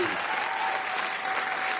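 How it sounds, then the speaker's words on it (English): A live audience applauds Mark Leota, steady dense clapping filling the room evenly and loudly from start to finish with no pauses. "they're giving you a great applause"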